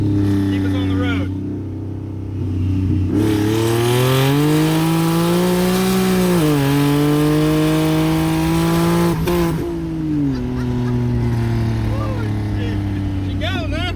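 A turbocharged six-cylinder car fitted with an AMR turbo kit and COMP 6875 oilless turbo, making over 600 wheel horsepower, accelerates hard: a loud, close engine note climbs, surges through gear changes, then settles back to a steady drone.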